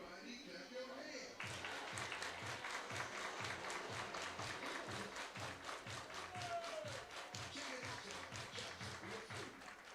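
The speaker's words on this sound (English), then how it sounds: "Everybody clap your hands." Baseball stadium crowd claps hands in a steady rhythmic beat for about eight seconds after a brief quieter start, loud and dense, with faint voices mixed underneath.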